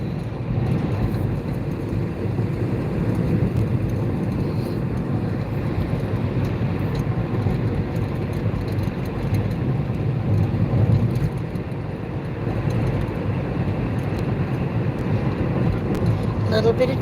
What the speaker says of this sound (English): A little bit of traffic.